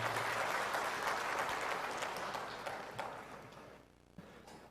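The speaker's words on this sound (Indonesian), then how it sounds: "Tepuk tangan untuk kita semuanya." Audience applause at a national ministry work meeting, a large hall of clapping that is full at first and gradually thins and fades, ending in a few scattered claps.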